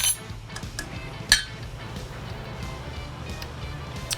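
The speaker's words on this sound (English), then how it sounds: "We'll go ahead and whisk that up" Whisking Q39 steak seasoning into a tangy dressing for jalapeño coleslaw: a rapid series of light clinks and taps of a whisk against a bowl, close and fairly quiet, with one sharper clink.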